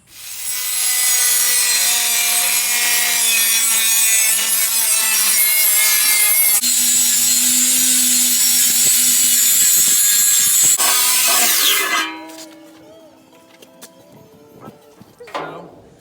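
Cutting through the end of a custom metal air tank with a power tool, a loud continuous grinding-saw roar lasting about twelve seconds, shifting pitch midway, then cutting off to quieter workshop clatter.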